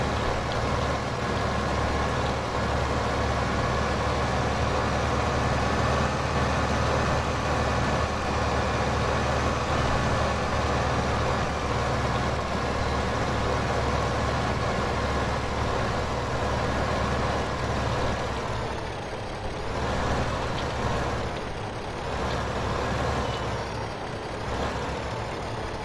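Tractor engine running in the Farming Simulator video game, a continuous loud droning engine rumble with steady low tones throughout, slight pitch shifts near the end, no talk.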